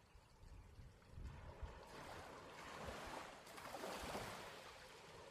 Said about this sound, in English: Hearing that gentle sound of the water